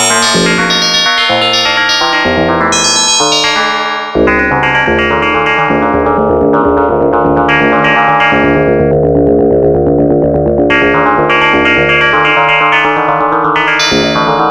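A dense, distorted Arturia MiniFreak synthesizer plays rapid repeating arpeggiated notes with thick, layered unison voices and echo, loud and continuous throughout.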